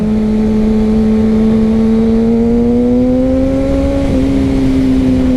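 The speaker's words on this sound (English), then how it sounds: "once you start going, it sounds pretty the same as other like 600s" A Kawasaki ZX-6R sport motorcycle engine drones loudly and steadily at speed, its pitch climbing slowly before a brief dip as it shifts, then holding on.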